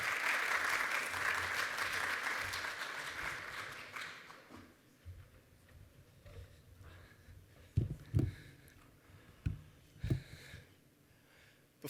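Audience applause after a round of startup presentations at a health equity accelerator expo, loud and sustained for about four seconds, then fading into scattered claps and a few sharp thuds in a quieter room.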